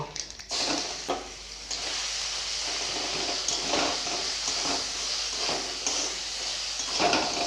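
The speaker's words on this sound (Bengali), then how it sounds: "তেল গরম হয়ে গেছে আমি দিয়ে দিচ্ছি এক চামচ কালো জিরা" Nigella seeds, then a paste of green peas, ginger and green chilli, going into hot oil in a pan, giving a steady crackling sizzle with scattered pops and spoon scrapes, close and continuous.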